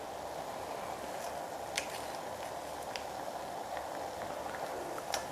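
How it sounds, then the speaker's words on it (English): Ginger simmering in a pot of water on the stove gives a steady bubbling hiss, with small pops and drips breaking through now and then, no talking over it. "Maybe for a minute, I will let the ginger boil in the water."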